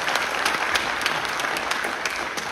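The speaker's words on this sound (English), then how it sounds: "Give him a round of applause." An audience at a county sewer project meeting breaks into steady applause, many hands clapping close by with no voices over it.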